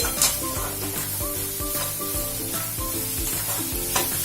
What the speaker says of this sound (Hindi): अब इसे हम मिक्स कर देंगे और गैस की फ्लेम बहुत स्लो ही रखेंगे।